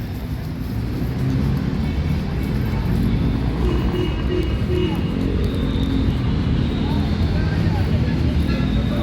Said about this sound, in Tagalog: Ito yung mga jeep going to Divisoria, yung naririnig nyo.